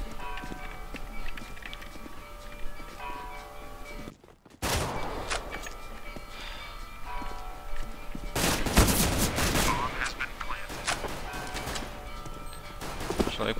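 Gunfire in a competitive Counter-Strike-style shooter match sounds as bursts of rapid shots and a dense fusillade, loud and close, with footstep-like clatter between volleys and a brief dropout midway.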